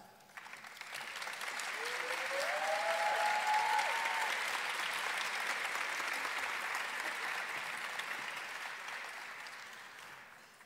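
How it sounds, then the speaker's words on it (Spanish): Audience applause at a spring graduation ceremony for postgraduate students, a dense steady clapping that swells over the first two seconds, holds strongly, then slowly tapers, with a faint voice or whistle briefly rising above the crowd. "a quienes invito a ponerse de pie para saludarles con un aplauso"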